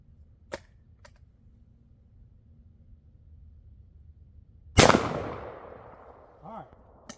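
A Rossi Tuffy 45 Long Colt/410 gun fired once, a single loud, sharp report followed by a long decaying echo, preceded by faint clicks and handling noise outdoors.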